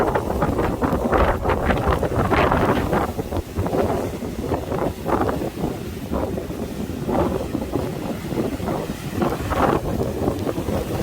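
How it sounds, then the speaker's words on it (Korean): Strong typhoon wind buffets the microphone at a rocky seashore in Sokcho, with a steady loud roar and gusting rumble over crashing surf, no voices heard throughout. "바람, 바람이 좀 세지긴 하네요"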